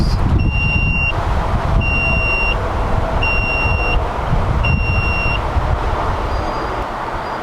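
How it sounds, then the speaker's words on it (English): A high electronic warning beep in a Tesla-powered Volkswagen Vanagon repeats four times at even intervals, each tone lasting under a second, over a low rumbling hum. "it's this beeping noise"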